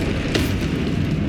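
Spell blasts in Hogwarts Legacy rumble with a dense, loud low boom, one sharper burst cutting through early on before the heavy roar carries on.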